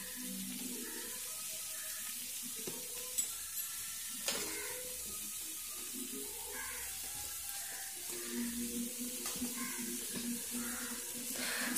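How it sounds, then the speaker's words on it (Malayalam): Shallots with added salt fry softly in a pan, a faint sizzle broken by occasional light scrapes and taps of a stirring spoon, close and quiet throughout. "ഇനി ഇതിനാവശ്യമായിട്ടുള്ള ഉപ്പും കൂടെ ചേർത്ത് നന്നായിട്ടൊന്ന് ഇളക്കണം."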